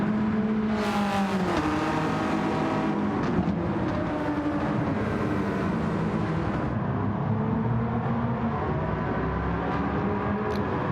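Front-wheel drive Renault race car in Gran Turismo 7 at Laguna Seca, engine droning and revving continuously at close range, pitch rising and falling through gear changes for the whole stretch.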